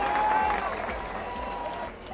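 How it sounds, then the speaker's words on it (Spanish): A festival crowd applauds steadily at moderate loudness, the clapping fading slightly toward the end, with a faint tone ringing beneath. "Quiero un aplauso, fuerte aplauso"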